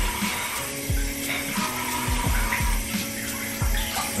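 Water running to rinse a man's beard, a continuous close splashing stream with soft repeated low thuds of hands patting and moving through the water.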